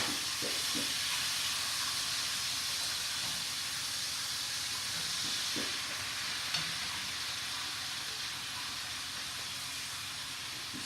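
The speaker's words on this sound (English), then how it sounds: "I'm going to be cooking up this 2 pounds of bacon in 20 minutes" Two pounds of bacon frying in a pan, a steady bright sizzle and hiss close by that runs unbroken throughout, with a few soft taps and light pops underneath.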